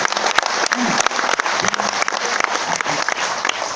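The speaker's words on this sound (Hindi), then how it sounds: "ताली जोरदार वाली बजा लीजिए।" Seminar audience at an RCM business meeting in Bhilwara, Rajasthan, clapping loudly in a dense, continuous burst of applause, with voices mixed in beneath the clapping.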